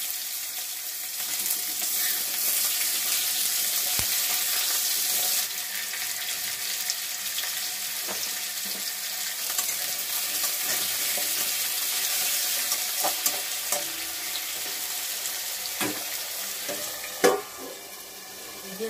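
Cumin seeds, bay leaves and dried chillies crackling in hot oil in a wok before potatoes go in, a steady bright sizzle with scattered small pops and one sharper clatter near the end.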